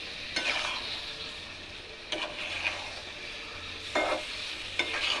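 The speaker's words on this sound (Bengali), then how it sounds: "তো এটা ভালোভাবে নাড়াচাড়া করে নিলাম খুব ভালোভাবে এটা একটু নাড়াচাড়া করে নিতে হবে" Boiled amla (Indian gooseberry) pickle being stirred in a pan, soft steady sizzle with a few louder scraping strokes spread across the stretch, fairly faint and without talk.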